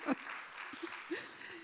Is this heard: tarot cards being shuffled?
no